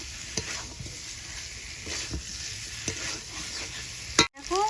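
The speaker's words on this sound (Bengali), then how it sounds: "মাংসটা দিয়ে আমি 4 থেকে 5 মিনিট কষিয়ে নেব" Partly cooked chicken pieces fry in a pan, a continuous sizzle broken by the soft scrapes and knocks of stirring, with a short sharp clatter near the end.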